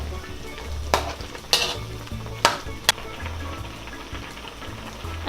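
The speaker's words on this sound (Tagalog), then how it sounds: "pwede na po nating ilagay ang ating patatas. Tapos hahaluin lang po natin." Chicken curry with potatoes, cooked with black mushroom, is stirred in a pot over a low simmering bubble, with a few sharp spoon knocks against the pot's side scattered through.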